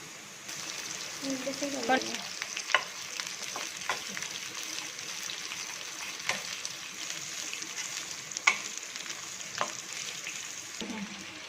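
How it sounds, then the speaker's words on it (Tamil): Steady sizzling of two medium onions frying in a pan until golden brown, with occasional scraping stirs and clinks of a spoon; a voice speaks briefly near the start. "ஆனியன் நல்லா ஃப்ரை ஆகிடுச்சு"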